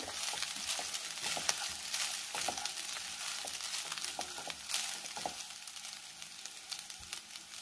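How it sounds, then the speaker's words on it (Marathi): Leftover rice with capsicum stir-frying in a pan, a steady close sizzle broken by repeated scraping and stirring strokes, with no talk. "भात आपण थोडा मिक्स करून घेऊया।"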